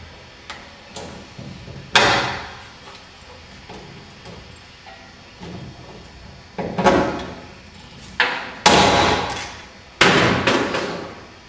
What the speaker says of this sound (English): I'm going to use a hand riveter for this one.